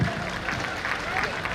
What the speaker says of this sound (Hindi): एक बार जोरदार तालियां माननीय मुख्यमंत्री जी के लिए